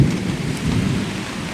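Heavy first monsoon rain in a Ratnagiri village pours steadily with a deep, rumbling roll of thunder underneath, loud and close throughout.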